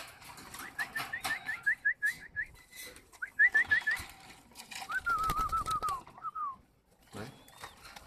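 Pet pigeons kept in a house give short repeated whistling calls and cooing bursts close by, with a quieter background of other birds and someone speaking Vietnamese between the calls.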